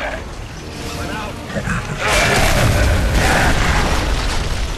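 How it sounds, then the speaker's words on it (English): A smoke grenade bursts in Gears of War 3, a loud booming blast with a hissing rush that spreads and lingers for several seconds, with talk mixed in beneath. "whoever shot that smoke grenade, that was total genius of you."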